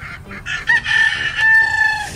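Rooster crowing loudly in a children's story, one long strained crow with clucking sounds at its start, close and prominent.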